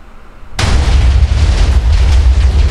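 Loud, booming TNT blasts in Minecraft erupt suddenly after a brief quiet moment, then roll on as a continuous rumbling wall of explosions with heavy low-end thunder and crackle.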